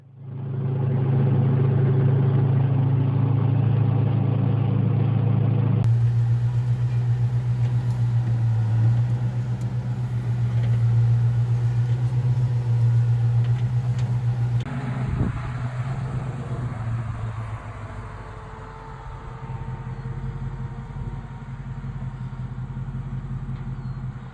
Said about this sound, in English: this particular filming was when we test drove the Studebaker truck